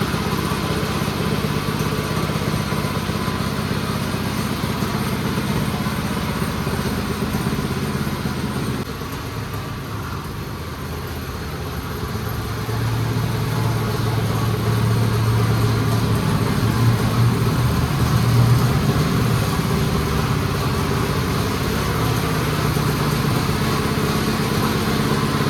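A small van kart engine warming up at idle, a loud, close, steady buzzing drone for the whole stretch that briefly softens midway, then returns with a slightly rougher, rising note, with no talking.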